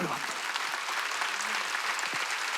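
A church congregation claps together at a Wednesday worship service, a short even burst of applause heard at moderate distance with faint voices underneath.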